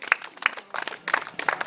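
A small rural village audience claps in short scattered bursts, a few hands at a time with brief gaps between, fairly close and moderately loud.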